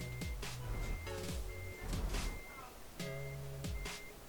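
A truck's reversing alarm in Euro Truck Simulator 2 beeps repeatedly in a steady pulsing rhythm over a low engine rumble, with brief tonal chimes mixed in and a voice speaking over it.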